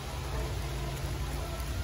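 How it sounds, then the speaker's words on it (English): Rain falls outdoors at a night 5k run in Caddo Valley, Arkansas, a steady, dense hiss throughout with no distinct drops standing out. "as y'all can see, it's raining out"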